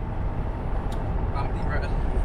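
Steady broadband road rumble from a vehicle rolling along a firm but heavily corrugated dirt track near 3 Mile Camp, Gnaraloo, with a constant low vibration and a few faint high clicks.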